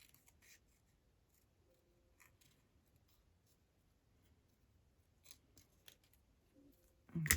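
Scissors trim paper for a journal page in a few quiet, scattered snips spread across an otherwise hushed room, with no voices.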